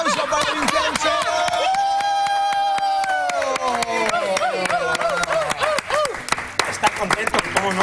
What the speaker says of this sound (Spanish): ¡Aplauso para Vincenzo!